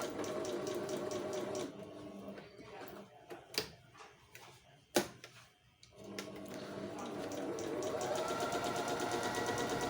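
A Singer 5200 sewing machine stitches in steady, rapid whirring runs at the start and end, with a quieter middle stretch of clicks and sharp knocks between the bursts of sewing.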